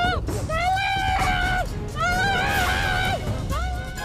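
Shrill wailing screams from people during a street raid on a busy crossroads in Sunter Agung, Tanjung Priok, North Jakarta. Three long rising cries sound close over steady crowd and traffic noise.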